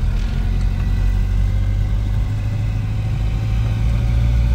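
A Nissan S14 with a freshly swapped manual transmission runs steadily, a loud, constant engine drone with a deep low rumble that holds even throughout, no voices over it.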